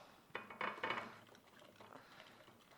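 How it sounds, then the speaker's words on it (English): Ceramic or metal baking dishes being filled with apple crisp mixture for Valentine's Day hearts, heard as a few close clinks and scrapes of a spoon against the dishes, then softer shuffling. "we're going to fill our dishes here"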